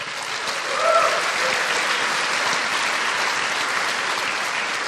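Audience applause at a vegan conference talk on aging, a steady broadband wash of clapping that swells near the start and holds fairly loud and even throughout, with no voices over it.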